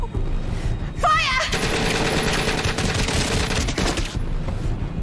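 Machine gun fire in a video game, a loud continuous rattling burst lasting several seconds, with a voice heard over the shooting.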